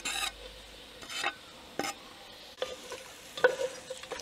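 Garlic added to a rice pan and stirred as it fries, a low sizzle broken by several separate scraping strokes of the spoon, close and with no talking.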